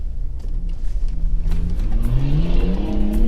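An off-road vehicle's engine revs loudly and close on a rough track of snow, mud and stones, its pitch rising and falling through several surges.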